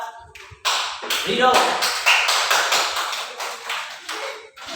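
Students in a classroom applaud a classmate named Rido with several seconds of brisk, fairly close clapping that starts right after a teacher's brief words and fades toward the end.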